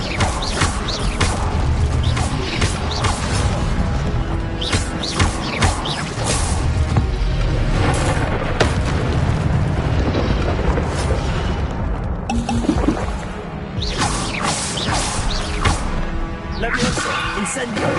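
Incendio fire spells cast repeatedly in Hogwarts Legacy, loud booming, crashing bursts one after another over a dense game soundscape, while a player calls out spell names throughout.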